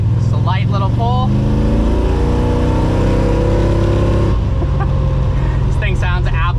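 An 815 hp 1969 Mustang revs and pulls away in a light acceleration, its engine note rising in steady harmonic sweeps, loud and close, with voices talking over the start and end.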